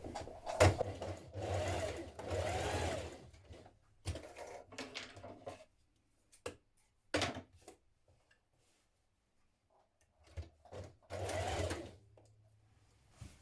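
A sewing machine stitches the centre seam of pyjama bottoms, running in several close, steady bursts of rapid needle clatter separated by short pauses and a longer lull.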